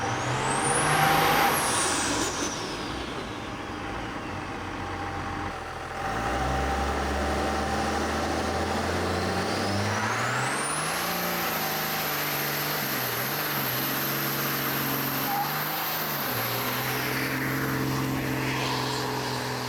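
A ramp truck with a swapped Cummins diesel engine doing burnouts. A loud, sustained engine drone revs up and holds high, with a rising whine and rough tire-spinning noise. It sounds close, with no talking.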